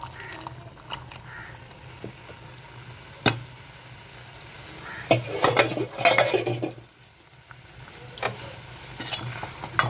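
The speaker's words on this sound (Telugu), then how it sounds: "కలుపుకుందాము పాకం అంతా ఈ రైస్కి పట్టేయాలి" Cooked rice stirred with jaggery syrup in a pot, a spoon scraping and clanking against the metal in bursts that grow busier midway, with a faint sizzle and low hum beneath.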